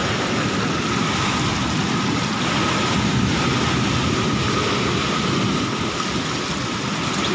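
Stormy sea waves roll onto the coast of Paschim Medinipur as a storm arrives. A dense, continuous roar of surf and wind fills the scene without pause, loud and close.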